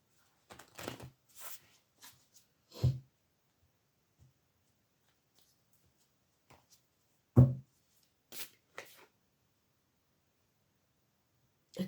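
Woodland Warden's oracle cards being shuffled and picked: sparse, brief riffles and soft card slaps separated by long quiet gaps, close and fairly faint.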